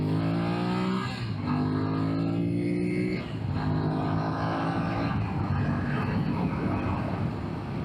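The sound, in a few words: BMW F900XR motorcycle accelerating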